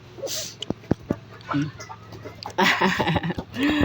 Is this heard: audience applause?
no